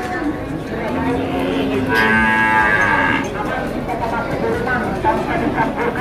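A beef cow lets out a single long, loud moo close by, over constant crowd chatter and outdoor background noise, on Lombok, Indonesia.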